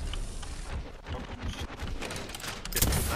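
Heavy gunfire from enemies crossfiring in a multiplayer shooter video game, with dense overlapping shots that stay loud and continuous and build to a sharp crack near the end.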